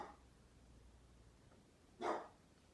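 Quiet indoor background gives way to one brief dog bark about two seconds in, with no further barks.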